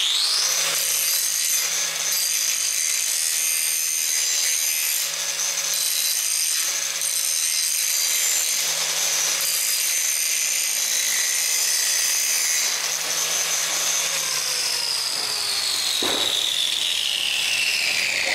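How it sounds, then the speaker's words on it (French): An angle grinder with a grinding disc bevels the edges of 2-inch steel pipe, giving a loud, steady, high-pitched grinding whine that holds throughout with slight shifts in pitch and ends with a falling tone. "je vais chanfreiner les bords à la meuleuse avec un disque à meuler."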